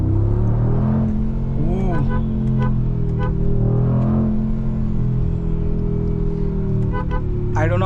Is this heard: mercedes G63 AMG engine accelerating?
yes